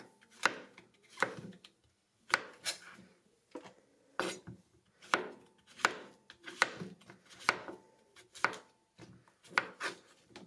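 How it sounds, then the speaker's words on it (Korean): A knife slices button mushrooms on a cutting board in a quiet kitchen, with a steady series of about fifteen crisp, close thuds and scrapes in an even rhythm, nearly alone. "양송이를 썰어줍니다."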